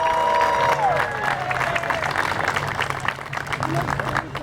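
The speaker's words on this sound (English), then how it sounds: "Please let's give them a loud round of applause." Loud round of applause from a crowd gathered outdoors at Clifton City Hall for a flag raising, dense clapping with a few cheers, a voice briefly over the start.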